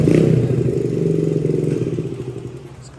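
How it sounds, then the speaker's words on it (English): Small Honda Z50 motorcycle engine revving up close, a loud throaty rattle that peaks at the start and slowly winds down over a few seconds. "let's see what this little Z50 sounds like"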